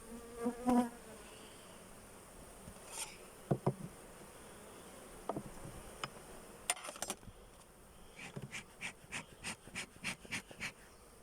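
Honeybees from strong twenty-frame hives buzz during a honey harvest, a steady close hum with sharp nearby passes and a rhythmic series of short bursts toward the end, no talking.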